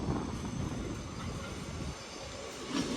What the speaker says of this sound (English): This is 805013 coming in from Chester